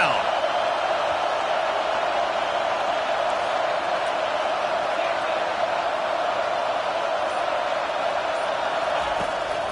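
Home crowd in the College Football 25 video game roars steadily through a third-down defensive stand, a dense, continuous stadium din at even loudness with no pauses.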